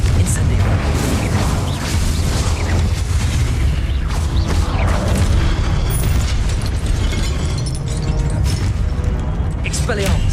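Spell blasts from Confringo and Incendio in Hogwarts Legacy burst repeatedly in a dense, continuous barrage of booms and fiery crackles, with a voice shouting over the battle.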